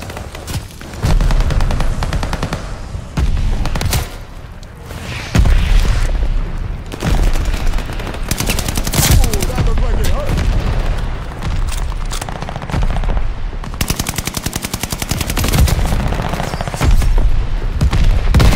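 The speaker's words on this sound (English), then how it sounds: "mortar barrage" A mortar barrage in Call of Duty Vanguard: loud booming explosions and bursts of gunfire pile up in dense, continuous waves, with short lulls between heavy impacts, close and harsh.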